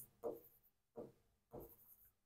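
Chalk or marker writing on a classroom board while a value is worked out in a physics problem, three distinct scratchy stroke bursts spaced about half a second apart, close and fairly faint, with no talk.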